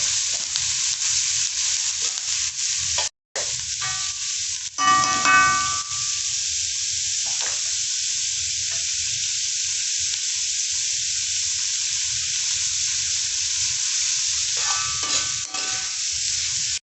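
Onions cooking with turmeric and salt in a pan, a steady bright sizzle with occasional stirring scrapes and clinks, close and continuous.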